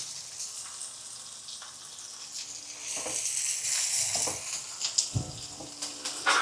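Food fries in a pan while cooking at home, giving a steady broadband sizzle that swells in the second half, with occasional clacks from stirring and utensils and no talking.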